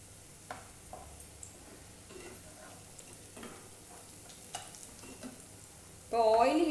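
Bread pizza pockets fry on a pan with a steady soft sizzle, punctuated by light ticks and scrapes of turning, then a louder warbling sound cuts in at the end.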